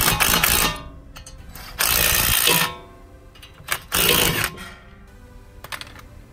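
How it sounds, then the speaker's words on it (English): Power tool tightening 12mm bolts to press a brake rotor off a Lexus IS350: loud, close mechanical bursts about a second long, separated by short pauses with scattered clanks. "So just gonna be using 12mm bolts and tightening them down."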